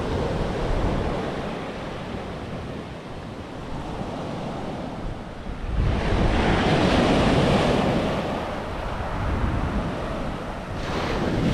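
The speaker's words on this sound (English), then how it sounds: "Look at this water coming in now." Waves surging in along the Holderness coast at Withernsea, a steady broad wash of surf with wind buffeting the microphone, swelling louder around the middle as a bigger set rolls in.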